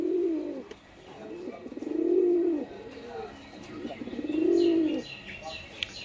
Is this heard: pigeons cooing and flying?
yes